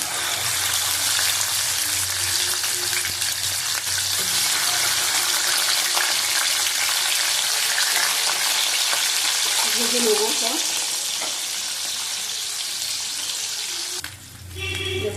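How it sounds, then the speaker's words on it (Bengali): Tengra fish coated in salt and turmeric fry in hot oil in a kadai, a loud steady sizzle and crackle throughout, briefly under a few spoken words near the end. "মাছ ভাজা হয়ে গেছে তুলে নেবো একসাথে"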